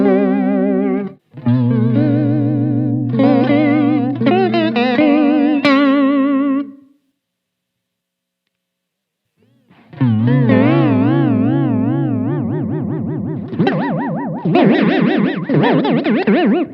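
Electric guitar chords and notes through a vibrato pedal with depth at maximum, a deep, wobbling vibrato that warbles the pitch heavily, a short pause, then more strongly wavering phrases.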